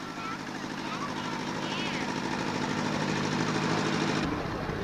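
An antique 10-horsepower truck-farming tractor from 1948–1955 putters past at a parade, its rapid chugging engine steady and fairly close, with crowd noise underneath.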